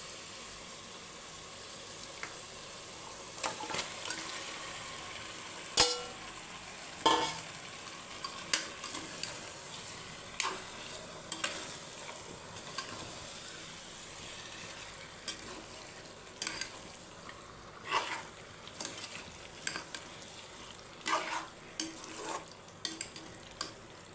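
Chicken pieces frying in a pan with biryani masala, stirred steadily: a continuous sizzle runs throughout, broken by sharp scraping clicks of a spoon against the vessel at irregular intervals, close and moderately loud, with no talking.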